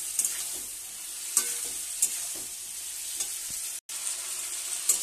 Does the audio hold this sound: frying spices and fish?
yes